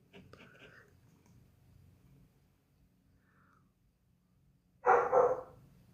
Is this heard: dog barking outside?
yes